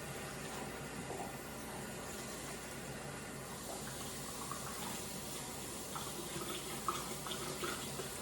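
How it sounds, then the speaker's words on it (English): Cold tap water runs steadily over a whole Bourbon Red turkey being rinsed in a sink, a faint, continuous splashing gush with no voices. "then we want to go ahead and rinse the turkey with cold water"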